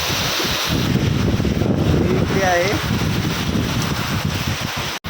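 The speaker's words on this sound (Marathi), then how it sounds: "बघा कडक वारा पाऊस घेऊनच नाईटमध्ये" Strong wind and rain lash Mandwa jetty on the sea at night, a loud steady roaring rush that fills the whole stretch while a voice speaks briefly underneath.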